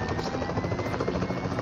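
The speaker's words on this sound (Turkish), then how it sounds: "Koskoca askeri helikopteri yolun ortasına indirdi." A military helicopter in a multiplayer shooter video game roars with a loud, continuous rotor thrum and engine whine, close and steady throughout.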